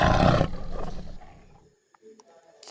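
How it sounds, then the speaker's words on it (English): A tiger's roar opens loud and close, a deep rumbling burst that fades over about a second and a half, followed by quiet with a few faint higher sounds. "Tiger."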